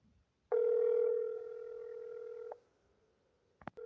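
A telephone call transfer gives a single steady electronic tone lasting about two seconds that cuts off cleanly, followed by a short burst of faint clicks and beeps on the line.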